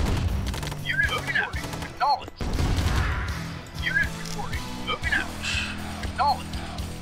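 Weapon fire and explosion effects from the strategy video game Command & Conquer Remastered, a dense run of crashing, booming bursts and chirpy unit sounds layered over game music and ambient clatter, fairly loud throughout with a brief dropout near the middle.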